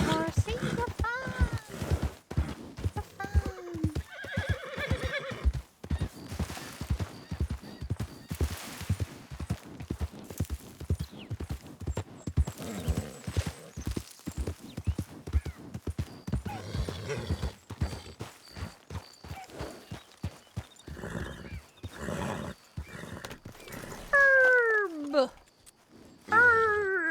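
A horse in Red Dead Redemption 2 (RedM) gives out rhythmic clip-clopping hooves and a few whinnies, with people talking over much of it.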